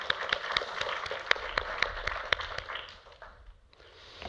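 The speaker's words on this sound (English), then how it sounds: "a round of applause for production team, marketing, events, and all the speakers and co-organizers" Applause from a conference audience at a live main-stage event, a steady crowd clapping with scattered sharper claps standing out, fading toward the end.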